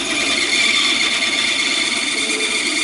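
A bandsaw cuts through a large piece of wood with a loud, steady, high-pitched whining roar that holds unbroken throughout, the blade straining in the thick stock with no dust vacuum running and no voices.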